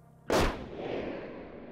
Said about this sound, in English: a single gunshot echoed from within